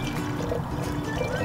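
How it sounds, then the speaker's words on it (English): Dechlorinated tap water pours steadily into a jar for a brine shrimp hatch kit, a continuous close rushing splash from start to end. "we're gonna pour it in"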